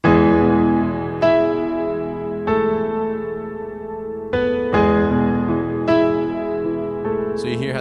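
Worship-style keyboard piano drenched in long reverb, five slow sustained chords struck about every 1.2 seconds, each ringing and blooming into the next with a wide, spacious wash, played alone with no talk.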